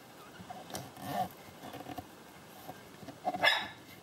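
A small dog gives a few sharp, scattered yaps and barks indoors, with a louder high yip near the end amid faint rustling.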